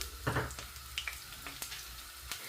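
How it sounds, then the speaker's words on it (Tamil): Small shallots sizzling in hot oil with fennel seeds: a steady soft frying hiss broken by a few light crackles and pops, close and fairly quiet. "இந்த சின்ன வெங்காயம் நல்லா வதங்கட்டுக்கும்"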